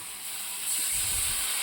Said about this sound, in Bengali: আমার মশলা ভাজা হয়ে এসছে।